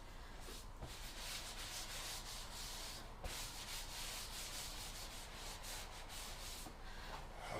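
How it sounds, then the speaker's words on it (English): Continuous close rubbing as a cake board is wiped down by hand during decoration of a vegan country cake, a steady soft scrubbing texture with faint rhythmic strokes and no talk. "And then just wipe this board down."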